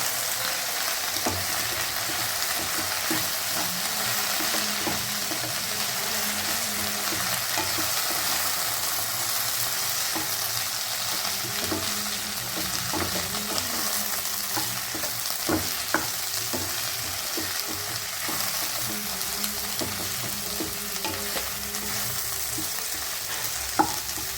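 Turmeric and garam masala stirred together in a hot pan, a steady sizzle with soft scraping and clicks of the spoon continuing throughout, no voices.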